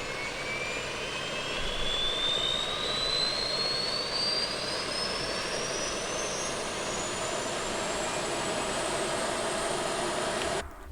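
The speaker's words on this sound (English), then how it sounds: "if you go to the outside, you can hear the APU starting. It's a little engine in the back of the airplane trying to power it." An auxiliary power unit spools up in the tail of an Aerosoft CRJ regional jet in Microsoft Flight Simulator 2020, heard from outside as a steady roar under a high whine that climbs slowly in pitch before cutting off abruptly.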